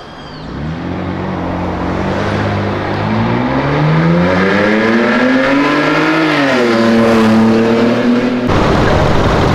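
A BMW drives past on Avenida Europa, its engine roaring loudly as it accelerates, the pitch rising, dipping and climbing again before the sound cuts off abruptly.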